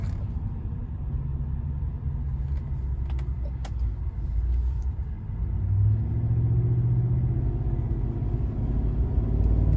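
A 2019 Chevrolet Silverado pickup rounds a corner, heard from inside the cab as a low, steady road and engine rumble that swells slightly partway through, with a few faint creaks and no speech.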